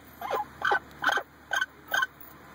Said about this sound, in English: You look like a happy bird.